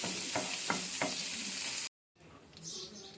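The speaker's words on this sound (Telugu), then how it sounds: "ఇలా స్పూన్తో కలిపెట్టుకుందాం." Butter melts in a hot pan with a steady, loud sizzle while a spoon stirs it in a few scraping strokes, then a brief silent gap before a softer sizzle resumes, close with no talk.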